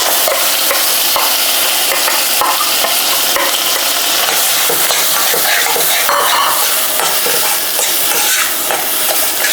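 Boiled dal stirred into hot ghee in a pan for Gujarati vedmi puran poli filling, giving a steady loud sizzle and hiss with scraping stirs and occasional clinks of the pan throughout.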